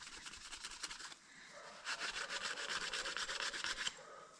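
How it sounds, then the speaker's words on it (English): Something rubs back and forth over a radiator to clean it, making close, rhythmic scraping and rasping strokes that grow steadier and louder after a short pause, with no voices. "I'll give it a bit of a rub with that."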